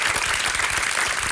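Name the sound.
studio audience applause for a volunteer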